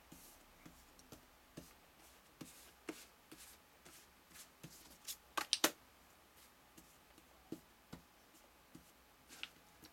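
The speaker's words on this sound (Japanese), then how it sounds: "4枚のカードを引くので、その中から1枚だけ選んで" Tarot cards are shuffled and drawn on a table, producing faint, close soft flicks and taps at irregular intervals with a brief louder cluster midway.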